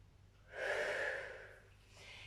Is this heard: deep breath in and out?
yes